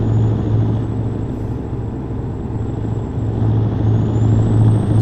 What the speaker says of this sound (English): what kind of car is next to me making that kind of a noise?